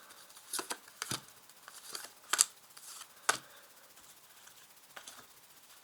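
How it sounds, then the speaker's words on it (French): Tarot cards shuffled and then laid out on a table, a run of quick papery riffles and flicks followed by a few crisp slaps as cards are placed, close and alone. "Et maintenant, je place les cartes."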